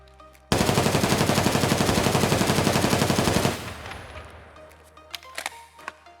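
An MK47 rifle in the shooter game Escape From Tarkov fires one long, loud full-auto burst of rapid, evenly spaced shots for about three seconds. Echoing tail and faint clicks of handling follow.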